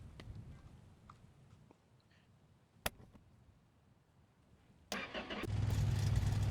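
A junkyard long bed Ford with a six-cylinder engine cranks and catches after quiet rustling and a sharp click, then idles loudly and steadily close by.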